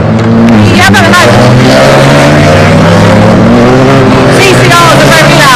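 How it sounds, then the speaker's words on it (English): TCR touring race cars racing at Croft circuit on a wet day, loud engines droning and revving as they pass, with people talking over the continuous roar. "TCRs are very loud."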